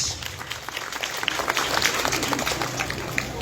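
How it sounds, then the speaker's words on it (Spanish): Clapping breaks out among a crowd at a Mother's Day event in a Q'eqchi' community, scattered claps building into a fuller round amid background chatter. "Aplauso para el número 2."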